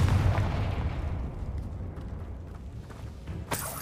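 A Confringo fire spell explodes in the video game Hogwarts Legacy, a loud booming burst that fades into a rumbling tail before a brief sharper crackle near the end.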